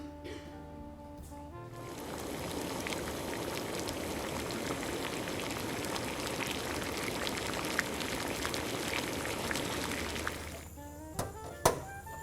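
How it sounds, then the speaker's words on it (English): Pasta cooks in a pot of boiling salted water, a continuous bubbling and gurgling that rises after a quiet start, fades near the end, and is followed by a couple of sharp clinks. "And then just going to cook some pasta."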